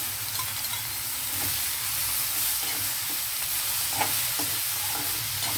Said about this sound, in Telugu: ఆనపకాయ ముక్కలు వేసేస్తున్నా అలాగే టమాటా కూడా వేసేస్తున్నాను